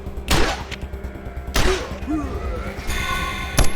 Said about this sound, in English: the bloodthirsty satisfaction from hearing so many gunshots